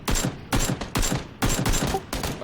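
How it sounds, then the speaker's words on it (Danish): Bursts of rapid automatic gunfire ring out in a battle royale video game, four or five loud clustered volleys separated by brief pauses, with no talk over them. "Han skød på nogen på venstre side, hvor vi skal hen."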